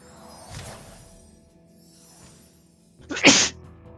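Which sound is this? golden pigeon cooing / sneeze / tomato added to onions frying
sneeze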